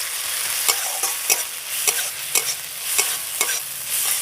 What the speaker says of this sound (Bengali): আবার একটু ভেজে নেবো যাতে আদা রসুনের কাঁচা গন্ধটা চলে যায়